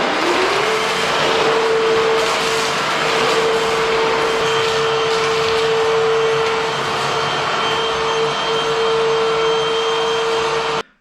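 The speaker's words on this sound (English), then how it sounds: "Gonna start hoovering" A vacuum cleaner hoovers the floor during a house renovation, a loud, steady motor whine with a constant high tone that runs near and unbroken for about ten seconds before cutting off abruptly.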